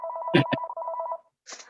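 A telephone ringing with a warbling electronic tone, cut by a couple of clicks and ending abruptly. A soft rustle follows close by.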